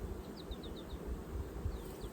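Honeybees buzzing at an open hive during an inspection of brood frames: a low, steady hum fills the background, with a few faint, short chirps above it and no talking.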